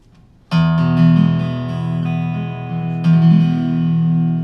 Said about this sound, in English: This is the sound of this guitar recorded through a Neumann U87.